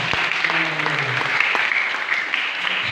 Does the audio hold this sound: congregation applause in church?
yes